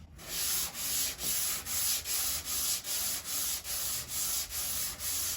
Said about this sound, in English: So I'm now just going to sand down and we'll see the high spots and the low spots.